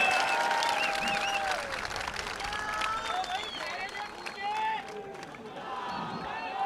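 Crowd applauding at an outdoor protest rally in heavy rain, a broad continuous wash of clapping and cheering with whistles and shouts mixed in, loud and sustained throughout.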